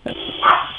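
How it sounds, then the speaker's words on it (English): Several pet dogs barking and yipping indoors in a home, a short burst of a few close barks rising to a louder yelp, with no talk over it. "Yes, I have a few doggies here."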